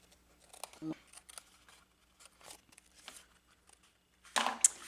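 Scissors snip through paper while cutting for a handmade gift box, with a series of short, close, crisp cuts spread across the clip and a louder crinkling rustle at the end; no talking.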